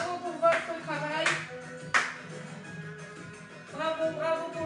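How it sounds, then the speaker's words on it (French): Hands clapping in applause at the end of a group gym session, a few bursts of claps mixed with a speaker's voice over them. "on tape dans les mains pour vous applaudir"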